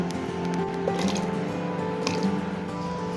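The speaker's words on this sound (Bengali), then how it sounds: "টুকরো করা এঁচোড়গুলো এবার আমি হলুদ জলের মধ্যে ফেলে দেবো।" Cut pieces of green jackfruit drop into a bowl of turmeric water in a home kitchen, giving a few close wet plops and splashes over steady background hum and faint voices.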